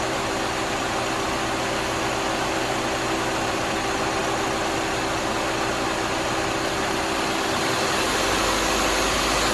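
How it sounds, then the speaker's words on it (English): A Subaru engine running steadily during air-conditioning charging, a constant loud mechanical hum with a faint hiss that holds at a raised idle throughout, no audible rise or fall. "could you bring that RPM up a little bit again?"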